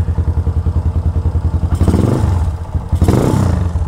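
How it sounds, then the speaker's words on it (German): A loud black Yamaha motorcycle with no dB killer, heard close up as a rapid chugging idle that breaks into two aggressive revs, roaring up and dropping back. "man fährt an Passanten hin, macht mal ein bisschen Krach mit dem Motorrad und dann erschrecken sich manche."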